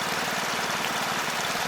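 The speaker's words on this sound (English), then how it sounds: "it's running pretty dang good with that gas pump" A gas-powered pump engine runs a homemade high banker at a beach gold-mining spot, a steady, loud, close mechanical drone with a fast pulsing chug and no pauses.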